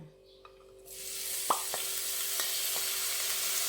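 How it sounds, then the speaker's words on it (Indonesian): Ground spice paste dropped into hot oil, quiet at first, then a sudden rising sizzle that holds steady and close, with a few light clinks from stirring. "Panaskan minyak. Kemudian masukkan bumbu yang sudah dihaluskan."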